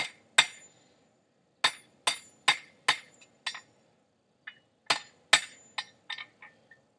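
Hammer blows on a forged steel fire poker putting peen marks into it, about a dozen sharp ringing metallic strikes in uneven bursts with short pauses, close and loud with no talk.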